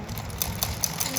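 Sewing machine running steadily while stitching a samosa-cut pajama, a low motor hum under a quick rhythmic needle ticking, close and fairly quiet, with no talking.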